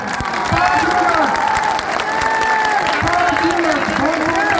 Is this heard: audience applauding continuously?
yes